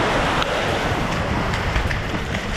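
Salty sea waves wash and surge nearby at a warm beach in Dubai, a continuous loud rushing of surf with some wind buffeting the microphone.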